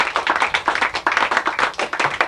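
A small group claps at a youth baseball team's awards picnic, a close, fairly loud run of individual hand claps with an uneven, patting rhythm and no talk over it.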